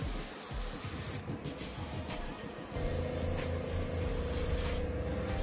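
A spray can hisses steadily while painting a Nike VaporMax Plus shoe, one long continuous blast that shifts slightly in tone partway through.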